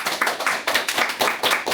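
An audience at a Korean talk claps to welcome a speaker to the front, a brisk, fairly close burst of hand claps in an uneven rhythm.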